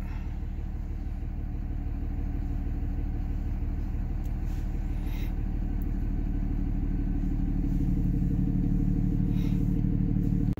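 A hot common rail diesel engine runs steadily with a Banshee VGT controller fitted, giving a constant low rumbling idle that stays close and even throughout, growing slightly fuller toward the end.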